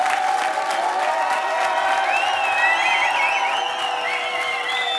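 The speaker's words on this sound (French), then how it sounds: "Elle applaudit, parce que sinon elle va se faire agresser." A comedy club audience at the Jamel Comedy Club applauds steadily for several seconds, a loud, even wash of clapping with a few scattered shouts mixed in.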